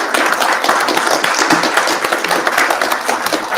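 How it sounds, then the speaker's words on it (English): Audience applause at a late-night rave event, a steady dense wash of many hands clapping with some individual taps standing out, fairly close and continuous throughout. "give these guys a big round of applause because the graphics are wicked"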